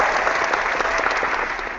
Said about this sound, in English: the one I've heard people use the most is the applause